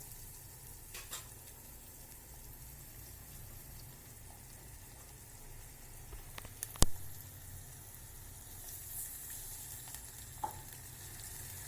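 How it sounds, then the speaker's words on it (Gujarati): Tempering (vaghar) for dal fry crackles in hot oil with a soft, steady sizzle that stays low throughout, broken by one sharp clink midway and a faint tick near the end. "તમે જોઈ રહ્યા છો આપણી ડ્રાય ફ્રાય માટેનો વઘાર આપણે તૈયાર કરી રહ્યા છીએ"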